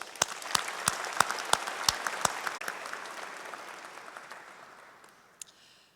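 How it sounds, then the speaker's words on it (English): A round of applause at a University of Lincoln graduation ceremony: scattered sharp claps rise into steady broadband clapping from the audience hall, then gradually thin and fade toward the end, with a few isolated claps trailing off. "shall we start this ceremony this afternoon with a round of applause for all those who have helped you through your studies"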